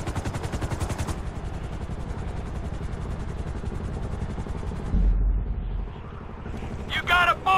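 Shootout in the GTA 5 story mode, with dense sustained gunfire and a helicopter rotor thumping underneath, loud and continuous before tapering, with brief shouted voices near the end.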